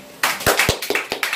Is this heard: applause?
yes